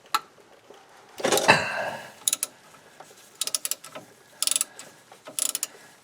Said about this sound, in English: You can use a wrench, you can use a ratchet set, and you got to get in there and loosen it up.